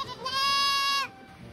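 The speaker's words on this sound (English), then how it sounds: "we met more goats as we continued our walk back towards where we had our vehicles parked" A goat gives one loud, close, strongly harmonic bleat lasting about a second on a walk back through the countryside near natural rock pools in Sri Lanka.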